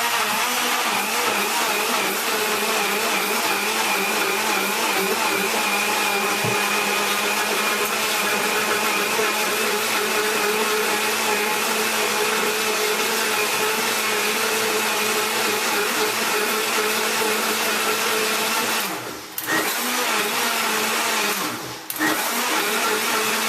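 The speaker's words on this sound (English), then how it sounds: "So what we're going to do is just blend this up." Blender whirring loudly and steadily through pancake batter with cinnamon and nutmeg, a sustained motor drone with a couple of brief dips near the end and no talking.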